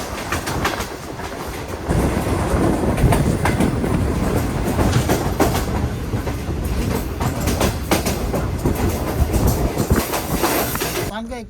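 Green Line Express train on the Islamabad to Karachi route rolling downhill off a horseshoe curve, a steady loud rumble of wheels and clattering rails heard from on board, with a voice talking over it.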